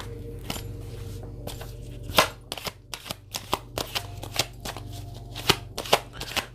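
Tarot cards being shuffled in a series of crisp, close riffling bursts and slaps, irregular in rhythm and sometimes in quick clusters, over a steady low hum with no talking.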